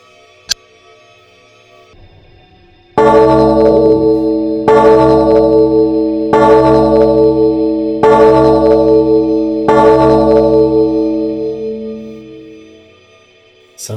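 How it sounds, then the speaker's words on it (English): A deep clock bell in a video game tolls five times in slow, even strokes, each ring swelling and echoing before slowly fading into silence. "Sounds like the clock's bell ringing."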